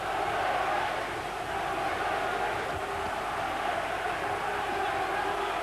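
A Welsh boxing crowd roars and chants behind the challenger Storey, a massed wall of voices that swells steadily and fills the arena. A commentator's voice runs over it.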